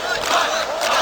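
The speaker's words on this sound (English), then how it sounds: "And you can hear the crowd in the background as well." A large live crowd roars and cheers at a CS:GO esports grand final at MLG Columbus 2016, a dense steady wall of arena noise that holds loud throughout with no individual voices standing out.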